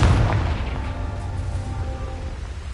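A Confringo fire spell explosion in Hogwarts Legacy, one heavy low boom at the start that rumbles and fades into a dull roar over a few seconds.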